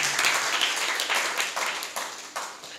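A church congregation clapping at a Saturday meeting, a fairly loud, continuous wash of hands with a few stronger accents, and faint voices mixed underneath.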